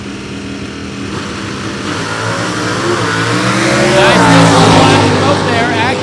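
A loud drag racing car engine roars and climbs in pitch as it accelerates hard down the strip, revving higher toward the end, with an announcer talking over it at an NHRA event in Norwalk.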